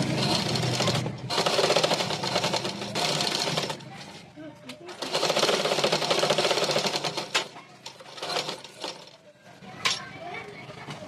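A sewing machine stitching a blouse runs in two long, loud bursts of rapid, rattling stitching, separated by pauses and shorter stops and starts, with someone talking during the gaps.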